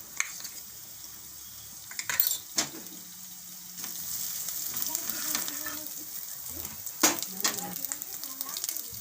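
Ginger dropped into drumstick soup cooking on the stove, a soft sizzle and frying hiss with intermittent stirring clinks and a few sharper knocks, fairly quiet and close.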